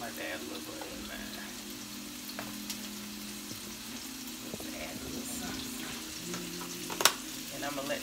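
Butter sizzling in a frying pan on a home stove, a quiet continuous crackle with a low hum underneath, a few faint knocks and one sharp clink near the end.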